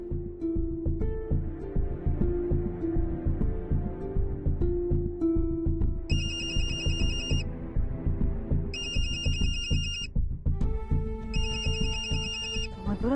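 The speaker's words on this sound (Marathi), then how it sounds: "मधुराचा फोन" A telephone rings in repeated bursts over a steady background music bed, loud and close, with no talk while it sounds.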